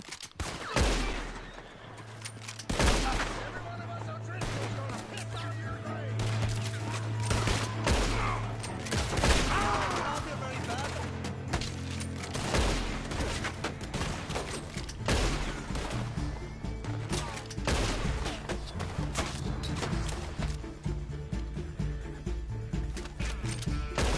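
Red Dead Redemption 2 gunfight at a bridge: repeated sharp gunshots crack out in irregular bursts, some close and loud, others overlapping in rapid volleys, over a steady low hum from start to finish.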